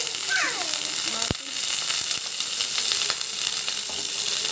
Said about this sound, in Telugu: ఇది కూడా బాగా నూనెలో ఫ్రై కావాలి